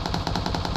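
Rapid automatic gunfire in a video game, a fast burst of about eight evenly spaced shots, loud and close.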